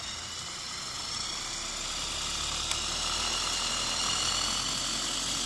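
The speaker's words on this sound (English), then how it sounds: "My flywheel actually has 4 different speeds, so the aero controls do 7, 8, 9, and 10 volts" VEX robot flywheel spinning up, a steady high whine with a faint mechanical hum underneath, holding constant and rising slightly toward the end.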